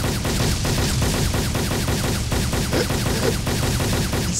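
Rapid gunfire in the video game Arma 2 Wasteland, a loud, continuous stream of closely spaced shots that barely pauses, with crackling reports layered over each other.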